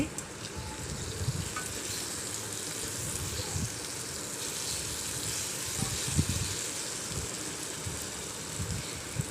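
Potatoes softening in a covered pan give a steady, soft sizzle and bubbling hiss throughout, with low popping and faint stirring rumbles underneath, fairly quiet and continuous.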